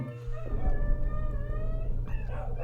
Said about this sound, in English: They just bark at anything,